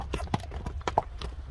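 Hooves of a horse clip-clop in short, uneven beats on firm ground as the animal is brought to a stop, with a voice faintly present in the background.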